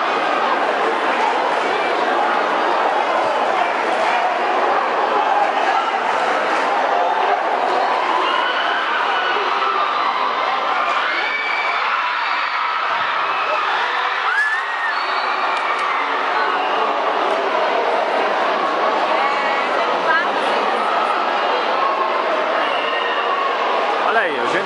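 Packed gymnasium crowd at a school games match between Eugênio Barros and Santos Dumont keeps up a continuous roar of cheering, whistles and shouts, while a commentator talks over it the whole time.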